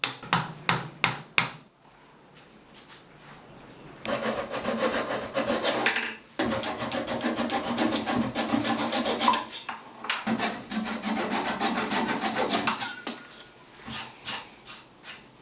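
A handsaw rasps steadily through wood in long, close bursts, flush-cutting wooden dowels, each run of strokes separated by brief pauses, after a few sharp taps at the start.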